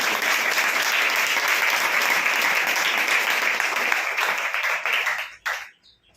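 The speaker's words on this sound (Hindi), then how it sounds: "ताली तो बजाओ।" An audience applauds loudly and continuously in a dense wash of clapping that fades out abruptly near the end.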